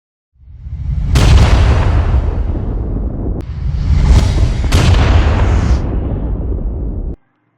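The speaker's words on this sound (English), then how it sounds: "Here is a two explosion, first one and second one." Two computer-generated explosion effects made in After Effects with Element 3D, each a loud booming blast with a long roaring rumble that tails off, the second starting just as the first fades.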